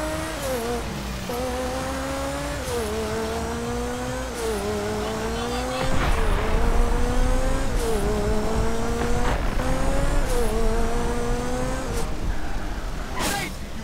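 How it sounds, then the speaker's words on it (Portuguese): A car in the video game GTA loses grip on a rain-soaked road, its engine revving up and down in repeated surges while the tires squeal and skid. The sound is loud and continuous throughout, with a rougher stretch midway. "O carro chega a ficar deslizando."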